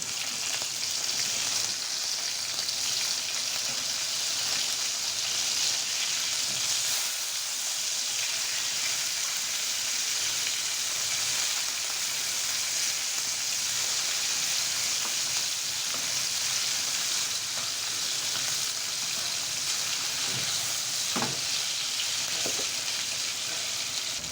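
Hilsa fish frying in a pan, a steady dense sizzle that runs loud and unbroken from start to finish, with a few faint clicks near the end and no talk.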